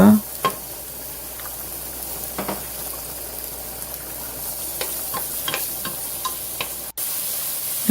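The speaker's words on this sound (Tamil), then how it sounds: "இதில் வந்து உள்ளியையும் வெங்காயத்தையும் போட்டு ஒரு ஃபியூ மினிட்ஸ் வந்து குக் பண்ணுங்க" Garlic and onion fry in oil in a pan for an Italian-style pasta, producing a steady close sizzle with occasional stirring scrapes and a brief break near the end, with no talk.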